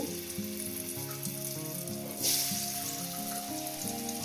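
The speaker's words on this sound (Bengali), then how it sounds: "তেল আর ঘিটা আমার গরম হয়ে গেছে এর মধ্যে দিয়ে দেবো আমি আলু" Potato pieces dropped into hot oil and ghee start to fry, giving a steady, fairly close sizzle that swells briefly as they hit the pan, while strong harmonic music plays over it. No voices are heard.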